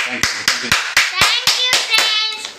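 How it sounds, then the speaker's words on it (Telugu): Close, loud hand claps in a slow uneven rhythm, about nine in all, with a voice speaking between them. "కొట్టారంటమ్మా చప్పట్లు కొట్టారంట అందరూ"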